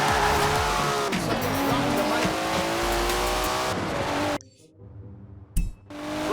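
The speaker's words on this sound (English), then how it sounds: "Never heard a Datsun sound like that, have you?" A modified Datsun in Forza Horizon 4 roars loud and close as it opens up on the road toward Edinburgh, its engine note sweeping up and down through gear changes with tire squeal, then cutting out briefly before a final burst.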